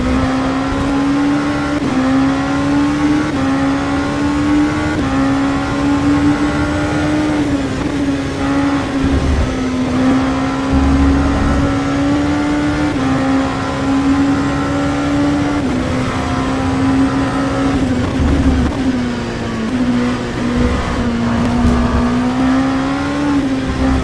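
LMP2 race car engine in rFactor 2 hums at a loud, steady high pitch, rising and falling gently through corners and gear shifts over a continuous stretch of driving, with no talking.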